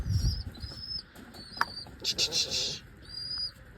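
Young pigeons leaving their enclosure beat their wings in a few brisk, close flutters, with one dense burst of flapping in the middle, amid thin high chirps and faint background noise.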